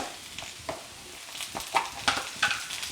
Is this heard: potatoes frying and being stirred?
yes